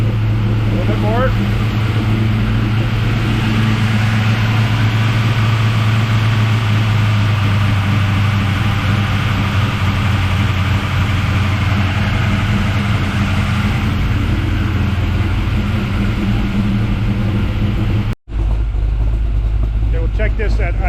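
A Camaro V8 with a tunnel ram intake idles loud and steady at about 900 RPM, with a deep, lumpy low rumble that continues throughout. Speech is present.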